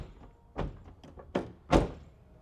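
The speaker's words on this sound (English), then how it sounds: "I want to shut the door and make sure that everything shuts good." A carbon fiber door on a Nissan 350z swings shut in three separate thunks, the last one the loudest and most solid, heard up close in an otherwise quiet space.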